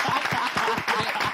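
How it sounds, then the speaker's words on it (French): Audience applauding at a French comedy show, a steady dense wash of clapping with a few stronger bursts, fairly close and continuous, with no voices over it. "Applaudissez Ladi."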